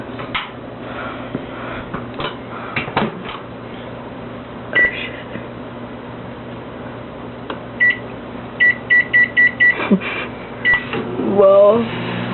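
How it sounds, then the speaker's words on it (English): A microwave oven hums steadily while heating chocolate on a plate, with clicks and a run of short electronic beeps near the end as people chat in the background. "we're putting a chocolate on a plate In the microwave."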